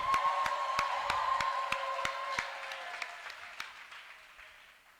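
A church congregation applauding, a dense wash of many hands clapping with a few sharp rhythmic claps standing out, gradually thinning and fading by the end, with no distinct cheering or speech.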